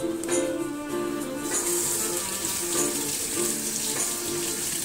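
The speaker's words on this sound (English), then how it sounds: "it's time to wash your hand from all the beef" A kitchen tap runs loudly and steadily as hands are washed after handling raw beef, water splashing in the sink close by for several seconds with no talking.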